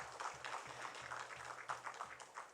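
Congregation at a Sunday church service claps for volunteers doing fever checks, a soft, fairly distant patter of many hands with uneven swells, a low hum running beneath.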